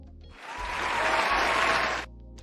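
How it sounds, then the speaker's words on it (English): A short burst of audience applause on a talk show, starting abruptly, holding dense and steady for about a second and a half, then cutting off cleanly. "Let's give her a round of applause."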